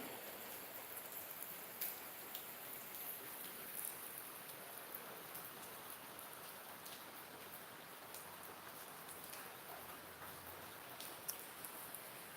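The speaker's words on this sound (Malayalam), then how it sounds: "നല്ല മഴയാണ്" Rain falls steadily and continuously, making a soft, even hiss of drops with a few slightly sharper patters. It is fairly faint and distant, with no voices.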